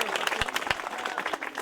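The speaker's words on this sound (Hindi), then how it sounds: "जोरदार ताली" Applause from a crowd at a cricket tournament prize ceremony in India, brief scattered clapping with a few sharp individual claps standing out over a busy, murmuring background.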